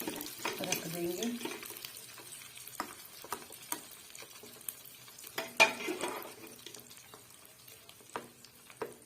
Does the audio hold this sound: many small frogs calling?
no